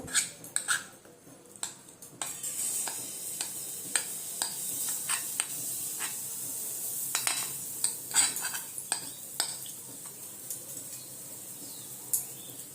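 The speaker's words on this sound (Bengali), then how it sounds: "তেলটা গরম হয়ে গেলে আমি এই ধোকলা মিক্সটাকে এর মধ্যে দিয়ে দেব।" Dhoka lentil-cake mix goes into hot mustard oil in a pan and is stirred, with scattered sharp metal-on-pan scrapes and clinks over a soft, steady background hiss.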